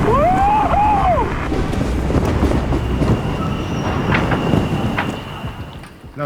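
A train running fast at 120 km/h with strong wind buffeting a rider on board: a loud, continuous broadband roar with rumbling wheels, plus a few high squealing tones near the start.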